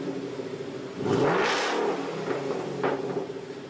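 A 2014 Mustang GT with a muffler delete revs once, sharply and loudly, then settles back to a rough idle, with a brief smaller blip and a few exhaust pops near the end.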